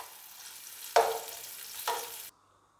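Sliced onion fries in hot oil for a mutton pulao, a soft steady sizzle that swells in two sharp bursts as it is stirred, then cuts off abruptly.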